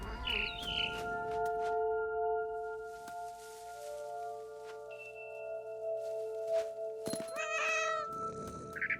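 A cat meows and caterwauls in the video game What Remains of Edith Finch, several close cries set over sustained musical tones, with brief bird chirps near the end.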